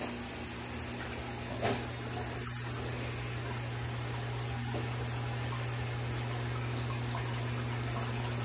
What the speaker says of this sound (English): See how the water spins faster and faster as it gets lower?